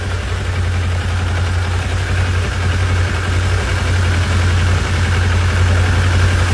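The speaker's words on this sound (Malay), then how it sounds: "Dan enjin pastikan hidup untuk RPM 1000 RPM saja." A motorcycle engine idles at 1000 RPM during a magnet coil test, a steady, low rumble throughout with a constant hum and no revving or voices.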